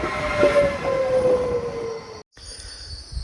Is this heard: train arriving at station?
yes